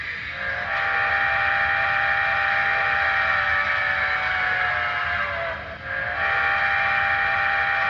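A BLI model of Union Pacific 9000-class steam locomotive 9048 sounds its whistle in a long sustained blast, briefly dipping before sounding again, over a steady background hiss.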